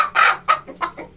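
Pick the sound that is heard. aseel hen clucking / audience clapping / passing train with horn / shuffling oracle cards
aseel hen clucking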